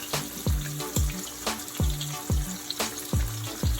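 Mustard-coated thin fish fillets frying in a pan, a steady sizzle under repeated sharp clanks and scrapes of a utensil against the pan at a regular pace, with no voices.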